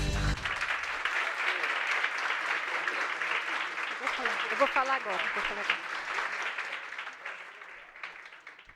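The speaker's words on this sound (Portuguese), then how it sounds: "Uma salva de palmas a todos." Steady clapping from an audience at a scientific merit award ceremony for honored students and advisors, holding full for most of the clip and tapering toward the end, while someone briefly speaks over it.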